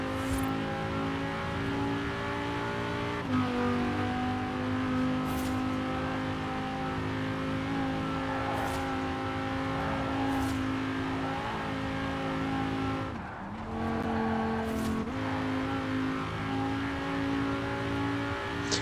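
Lamborghini Huracan engine in the Forza Horizon 4 racing game, a sustained, steady-pitched engine drone held at speed for a long stretch, with brief shifts in pitch and a short dip partway through.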